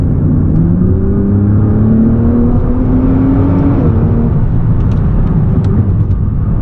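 A Nissan GT-R Nismo accelerates hard under a loud, steady engine roar whose pitch climbs continuously, heard from inside the car with no talk.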